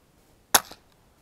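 A single sharp, dry crack from a .22 rifle firing CCI Quiet ammunition, brief and close, followed by a short echo and then silence.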